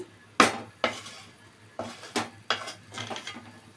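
Salted cabbage curry stirred in a metal pot, a series of about seven distinct clanks and scrapes of a spoon against the pot at irregular intervals, close and clear with no talking.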